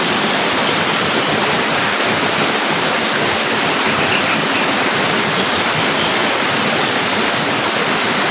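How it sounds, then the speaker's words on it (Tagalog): Forest stream flowing steadily, a dense constant rush of water heard close and loud with no breaks and no talking. "Sapa na ito guys. Karugtong to na yung sapa na nandun."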